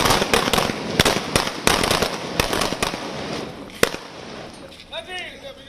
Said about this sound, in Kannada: ಇನ್ನೊಂದು ಕಡೆಗೆ ದೇಶದ ಒಳಗಡೆಗೆ ಜನ ಪಟಾಕಿ ಸಿಡಿಸ್ತಾ ಇದ್ದಾರೆ